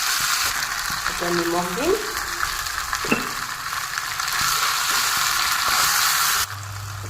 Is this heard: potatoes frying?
yes